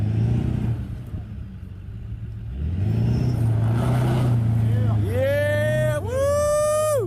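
A lifted Ford Econoline van revs and accelerates off-road while stuck, the engine rumbling low and rising, with excited voices and crowd chatter layered over it.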